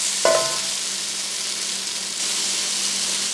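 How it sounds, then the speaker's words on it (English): Homemade Madras curry powder frying in a pan, a broad steady sizzle and hiss throughout, opening with one clear clink of a spoon against the pan and swelling slightly louder toward the end. "I just need the curry powder to fry up for at least 3 minutes."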